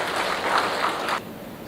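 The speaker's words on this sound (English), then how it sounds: "Let's give her a round of applause and welcome her" An audience at an Air Cargo India event claps in a brief burst of applause that stops abruptly partway through, leaving quiet room tone.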